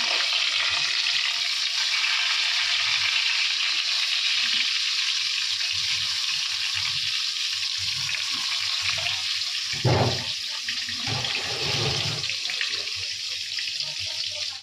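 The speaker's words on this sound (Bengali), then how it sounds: "তেলটা আমার গরম হয়ে গেছে, ভাজাটা বসিয়ে দেবো।" Eggplant slices frying in hot oil for a Bengali meal, a steady rushing sizzle that holds evenly through the whole stretch with a few brief bubbling bursts.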